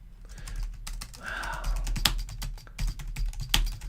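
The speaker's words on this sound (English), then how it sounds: "I'm typing in what's on Netflix, foreign films, international." Someone types on a computer keyboard, producing rapid, close clicking keystrokes in an uneven rhythm, with brief gaps and a few sharper taps standing out.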